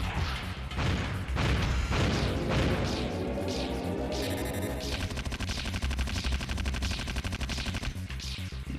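Machine gun fire in the Nintendo 64 game Hybrid Heaven, heard as rapid, repeated loud bursts over busy, continuous in-game music and effects.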